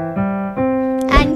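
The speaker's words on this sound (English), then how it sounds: "if we do not use a sustain pedal with this chord pattern," Piano chords struck without the sustain pedal, three short detached chords cut off quickly, each note dying as the next is played, close and clear with no talking.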